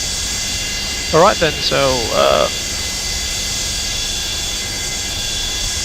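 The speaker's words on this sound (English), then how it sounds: "just to listen to the magnificent sounds from the JT8D engines" Boeing 727-200F with JT8D jet engines taxiing in Microsoft Flight Simulator: a steady, droning engine whine and hum that holds constant throughout, with someone speaking briefly over it near the middle.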